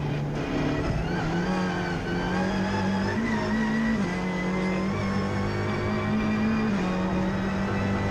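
A race car's engine roars loud and close at Oulton Park during a Britcar race, a sustained, strained drone whose pitch steps up and down with gear changes over several seconds.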